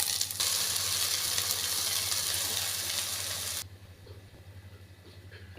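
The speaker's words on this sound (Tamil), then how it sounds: "அரைச்சி வச்ச மசாலாவை சேர்த்துடலாம்." Ground masala paste added to a hot pan of sautéed onion and curry leaves for vendakkai kulambu sizzles loudly and steadily for over three seconds, then drops abruptly to a quiet low simmer.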